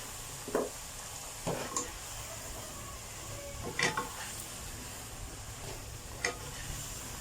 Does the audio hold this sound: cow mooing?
no